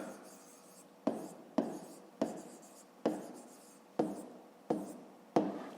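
Handwriting with a pen on paper during a fifth-grade maths exercise, soft continuous scratching strokes broken by about eight sharper taps at roughly even intervals, close and fairly quiet with no talk.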